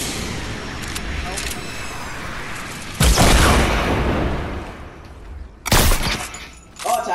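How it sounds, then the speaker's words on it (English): Gunfire in the video game Fortnite, two sharp loud blasts about three seconds apart, each with a ringing tail, over game background noise while players talk. "I shot her. With a sniper."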